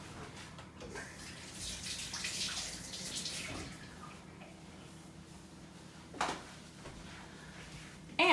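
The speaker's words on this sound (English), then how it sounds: "I'm gonna rinse my hands really quickly." Tap water runs quietly into a sink while hands are rinsed, a faint, steady splashing wash with a couple of brief knocks.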